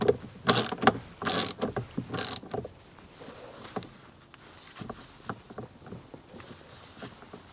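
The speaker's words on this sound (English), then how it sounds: "We're going with the hand torque here." A hand torque wrench tightens a wheel lug nut on a 2019-or-later RAM truck during a carbon fiber wheel install: three loud bursts of ratcheting clicks near the start, then quieter irregular metallic clicks and taps.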